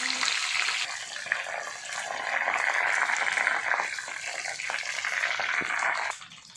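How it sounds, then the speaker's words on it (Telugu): Curry leaves sizzle steadily in hot oil for pickle making, a loud, dense crackle that holds close and continuous before easing off near the end, with no talking. "ఇలా కరివేపాకు అంతా గలగల అవుతున్నప్పుడు మొత్తం నేను వేసేసుకోవడం"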